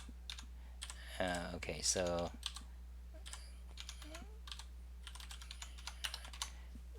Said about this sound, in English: so I'm typing this out